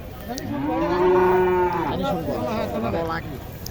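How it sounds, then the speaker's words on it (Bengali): A white cow moos loudly and close by in a long drawn-out call at the Gopinath fair in Naogaon, followed by a second lower moo, with faint background voices. "ওই ভাইয়েরই একটা গরু দেখেন সাদা চকচকে একটা গরু"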